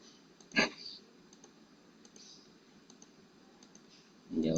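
A computer mouse gives one sharp, close click, followed by a few much fainter clicks in a quiet room, with a brief rustle at the end.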